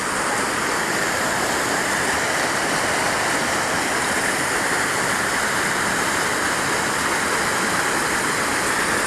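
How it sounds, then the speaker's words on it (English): Creek flowing beside a mountain campsite, a steady, unbroken rush of water that stays loud and even throughout, with no voices over it. "There's fresh water, there's a creek just here"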